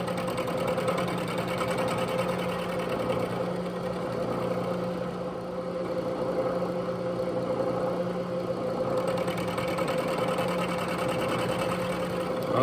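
A Logan 6560 metal lathe takes a cut of about 20 thousandths, giving a steady mid-pitched mechanical whir and hum with a faint continuous whine, moderately quiet and unbroken.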